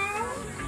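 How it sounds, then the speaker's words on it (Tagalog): A cat gives one short, close meow, heard alone. "Sumagot yung mga pusa."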